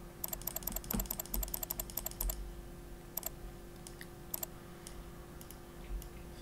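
Computer mouse clicks while editing in PaintShop Pro: bursts of rapid, crisp clicks near the microphone, then sparser single clicks spaced out, faint room hum underneath.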